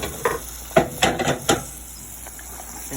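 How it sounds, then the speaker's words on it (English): Hot semolina halva spiced with cinnamon and clove sizzles and hisses as simple syrup is poured into it, with a few sharp bursts of bubbling up close, then settling into a faint steady fizz. "to this, I'm adding my loose simple syrup"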